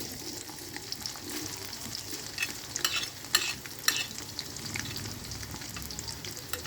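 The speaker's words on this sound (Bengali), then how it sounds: "পেঁয়াজ কুচিটা এখন আমরা লাল লাল করে ভেজে নেব।" Chopped onion fries in oil for a country-chicken curry over a clay stove, giving a steady crackling sizzle with scattered spatula scrapes and stirring knocks, close and continuous with no talking.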